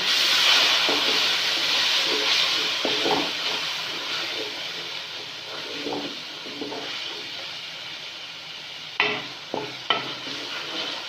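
Steady hissing sizzle of water poured onto frying masala in a hot pan, gradually easing, with a few soft clinks of a utensil near the end.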